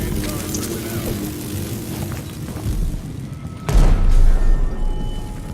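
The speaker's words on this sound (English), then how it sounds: "Screw it, grenade it is." A thrown grenade explodes in the Dishonored 2 video game, a deep booming blast rising over a rumbling background of game noise and lingering afterward.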